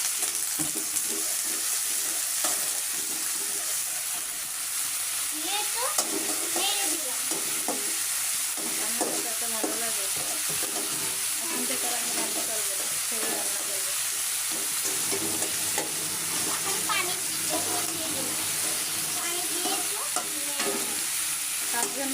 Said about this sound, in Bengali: পেঁয়াজগুলো দিয়ে দিই পেঁয়াজ দেওয়ার শেষ এখন আদা রসুন বাটা দিয়ে দিই